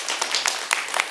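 Audience clapping at a Nepali stage show after a cash donation is announced, heard as short bursts of claps rising and falling in clusters over a little more than a second, with no talk over it.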